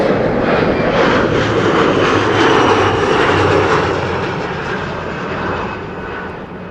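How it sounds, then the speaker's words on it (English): Embraer 175 jet airliner arriving at Amsterdam Schiphol in a strong crosswind, its engines a loud, steady roar that swells and then slowly fades, with no voices. "an Embraer 175 arriving from Leeds is what you pick up on the mic"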